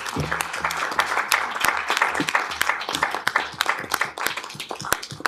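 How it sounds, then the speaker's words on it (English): Audience applause at an Augusta city commission meeting for visiting students, a steady patter of many hands clapping close by with a few sharper individual claps standing out and a faint murmur beneath. "can we give them a round of applause?"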